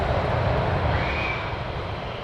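A military jet taxis at RAF Lakenheath, giving off a loud steady engine roar with a thin high whine, heard from outside and fading slightly toward the end.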